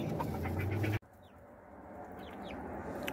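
Chickens, including young birds, cluck softly in a backyard flock on a cold, wet day. There is a brief burst of louder clucking, then a quieter stretch with faint scattered calls in the distance.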